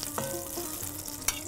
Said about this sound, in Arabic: لما تتحمص معي اللحمة يكون أنا كمان الزبدة عندي اتحمصت